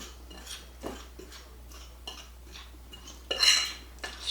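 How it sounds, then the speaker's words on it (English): A utensil stirs flour and black pepper in a bowl, producing a few scattered scrapes and clinks against the dish, quiet and close, ending in a brief louder clatter. "Stir it up, mix it up real good."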